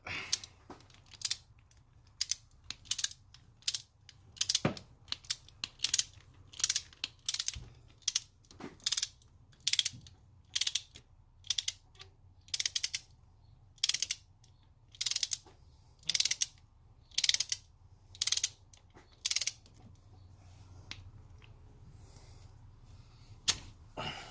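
A ratchet loosens under-torqued spark plugs on a 2014 Toyota Tacoma V6, giving about twenty short bursts of rapid clicking separated by brief pauses, close up with no talking.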